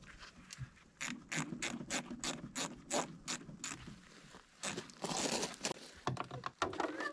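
A wrench ratchets on the oil drain plug bolt of a generator, a quick run of about a dozen sharp clicks followed by scraping and metallic fumbling, close up with no talking.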